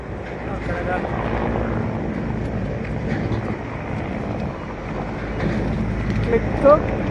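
A helicopter circles over the city of Jodhpur, its rotor and engine making a continuous, broad droning rumble that holds steady for several seconds, with a short faint chirp near the end.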